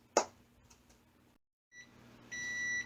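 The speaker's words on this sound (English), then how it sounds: "there's the timer." An oven timer in a home kitchen gives a short electronic beep and then a longer steady tone, clear but fairly quiet, after a brief clatter.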